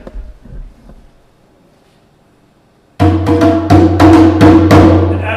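Drums like those heralding a king's arrival in Mali, as played in the film Ali, burst in loud and close after a few seconds of faint talk, with heavy resonant strokes repeating in a steady, insistent pattern.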